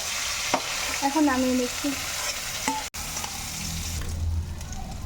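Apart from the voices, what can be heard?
hilsa fish frying in a wok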